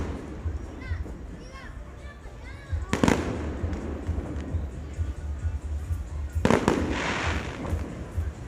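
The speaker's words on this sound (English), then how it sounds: "In every evening, they make a firecracker show," A fireworks show at a hotel in Puerto Vallarta crackles and pops at a distance, with two sharp louder bursts, under nearby talk and the chatter of a crowd and children.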